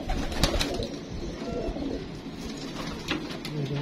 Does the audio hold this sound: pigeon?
yes